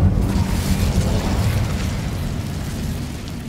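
Incendio fire spell blast in the video game Hogwarts Legacy: a loud, close, roaring burst of flame that hits at once and rumbles as it slowly fades across a few seconds.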